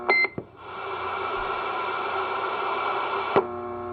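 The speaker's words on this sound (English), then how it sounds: "Who likes the Roger beep? I love the Roger beep." A Galaxy DX99V CB radio gives a short two-tone roger beep, then a steady, fairly loud receiver static hiss runs for about three seconds before a brief tone closes it.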